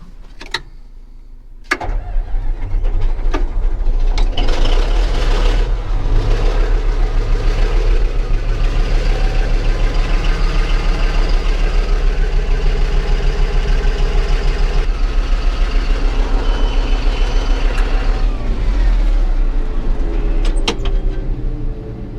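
Tiny 2, a large machine, runs with a steady low engine drone as it is moved out of the road, holding a constant rumble after a couple of sharp knocks at the start.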